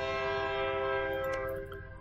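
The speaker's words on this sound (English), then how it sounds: "I don't know why they play the horn so loud and for so long." A loud, sustained train horn blares in the Europa Universalis IV strategy game, holding a rich steady chord for about two seconds before starting to fade, with no speech over it.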